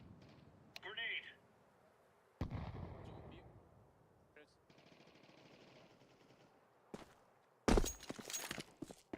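A grenade explodes in Counter-Strike 2, a sharp loud broadband blast late in the sequence, set among rattling gunfire, pops and other in-game combat noise.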